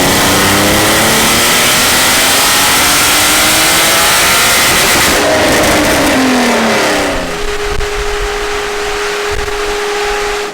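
BMW E36 drift car engine revs hard on a dyno pull, a loud continuous climbing roar with rising tones that peaks, then drops to a steady high idle drone.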